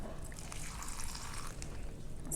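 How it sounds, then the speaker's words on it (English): A little water trickles into the bottom of a pot or dish, a steady soft splashing and dribbling that holds for a couple of seconds, close by and with no talking. "we're going to put just a little bit of some water here in the bottom"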